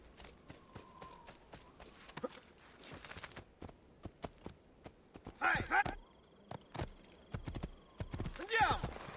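Horse hooves clip-clop in the Assassin's Creed 2 video game, a series of sharp, uneven knocks with a couple of louder clustered bursts, moderately close, and no speech over them.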